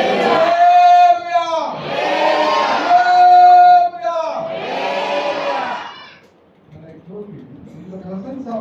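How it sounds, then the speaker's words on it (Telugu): A church congregation shouts praise to God in loud, sustained group cries, three long surges of voices, then a quieter stretch of murmuring at the end. "జయధ్వనులతో దేవుని గురించి ఆర్భాటము"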